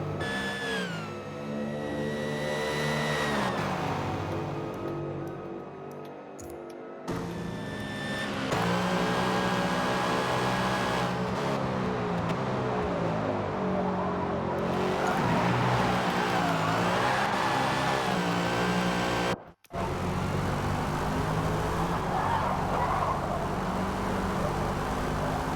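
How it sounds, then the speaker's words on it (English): V8 Supercars race at Bathurst in the Forza game, engines revving and shifting with a strong supercharger whine, loud and close with cars rising through gears and a brief cut near the end. "Definite whines on the superchargers."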